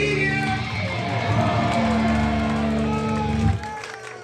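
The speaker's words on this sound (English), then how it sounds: "A round of applause for yourselves." Concert crowd at a beach bar show in Lake Como, New Jersey, applauding and cheering in a dense, steady roar that swells midway and drops off near the end, with music or tones humming underneath.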